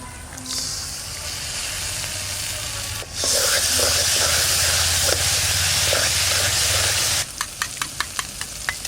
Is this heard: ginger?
yes